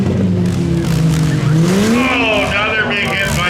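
Demolition derby cars grinding and scraping against each other on a sheet-metal-strewn pit, engines revving loudly with tire squeal and rising whines throughout, an announcer talking over the din.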